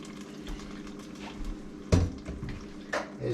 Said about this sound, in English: we're going to put a little water in here to clean out the bowl